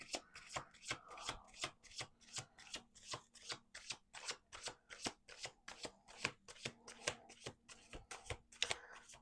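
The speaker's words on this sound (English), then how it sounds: "Let's do one more shuffle here" A deck of tarot cards is riffle-shuffled over and over in a quick, steady rhythm of crisp, close papery bursts, with a low hum underneath and no talk.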